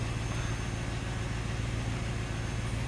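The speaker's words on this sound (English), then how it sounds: "let's start up right on the first try. There's no idle issues." A Chevrolet Impala with an LT1 engine idling just after starting, a steady low rumble that holds an even pitch throughout, close by and with no talk.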